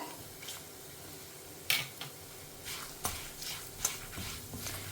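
Spices with asafoetida dry-roast in a pan for Madhwa-style huli saaru, giving a faint, low sizzle punctuated by light scraping and clinking as a spoon stirs them at irregular intervals, with no talking.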